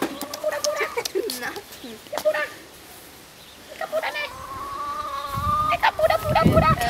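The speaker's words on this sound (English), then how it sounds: "Come here, little chicken peeps." Chickens in a farmyard in Denmark give short clucks and squawks, close by, mixed with people talking and calling to them.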